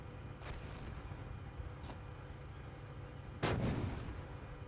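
A tank cannon fires in the Steel Beasts Pro PE simulator, one sharp, loud blast with a rumbling decay, preceded by a fainter distant shot over a steady engine hum.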